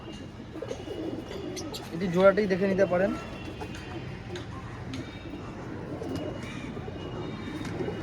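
Pigeons in a large flock of over a hundred coo softly in the background, with a brief louder burst of cooing; someone talks over them almost throughout.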